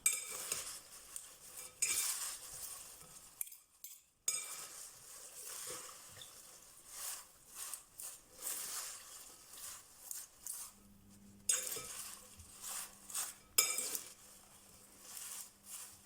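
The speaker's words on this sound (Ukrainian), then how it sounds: "Сюди ж вкидаємо тунець в олії і легенько вилочкою перемішуємо." Tuna in oil gently mixed with a fork for a tuna and orange salad: soft, faint scraping and light clinks in uneven bursts, broken by brief near-silent pauses.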